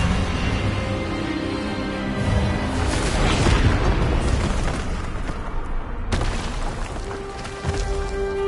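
An Expelliarmus spell blast in a Harry Potter game swells into a loud, rushing burst that peaks midway, then cuts off sharply and gives way to a lower, ringing hum.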